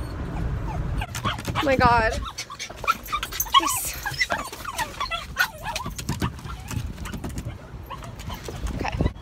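Several nervous dogs whimper, yip and cry in a steady, high-pitched stream of whines, close by and fairly loud, while a person exclaims briefly over them.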